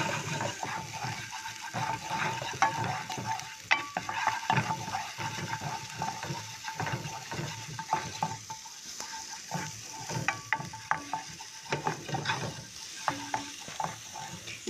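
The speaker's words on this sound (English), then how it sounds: "Saute for few minutes." Garlic for a filling sautéing in a pan, a steady close sizzle of frying with frequent scraping and stirring from a utensil, no voices over it.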